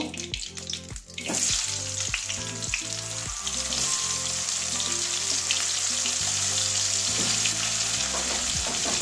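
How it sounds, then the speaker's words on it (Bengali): Turmeric-coated cauliflower florets fry in hot oil for a Bengali egg and cauliflower curry, giving a continuous bright sizzle that swells after the first second and holds steady beneath background music, with no talking. "ওই তেলের মধ্যে ফুলকপিটা ভেজে নেব।"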